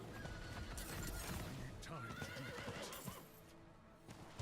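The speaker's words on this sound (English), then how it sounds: "My horse is freaking out." A horse in a druid-themed video game whinnies and snorts, with clip-clop hoofbeats and a busy, continuous mix of game effects and a voice talking over it.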